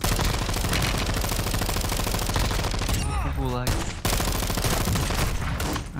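Dense, continuous gunfire in Call of Duty: Warzone 2, rapid bursts of automatic shots that fill the clip, with a short break near the middle before the firing resumes.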